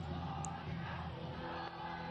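A wrestling crowd at a fire death match chanting for Onita, a broad roar of many voices, fairly distant and steady, with no individual talk standing out.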